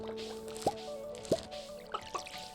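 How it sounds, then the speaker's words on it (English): Crops being watered in a farming video game, a few soft cartoonish water drips and plops spaced irregularly over a quiet background of game music. "Just gonna water these."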